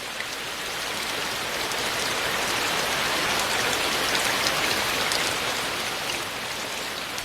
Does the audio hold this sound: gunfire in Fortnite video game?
no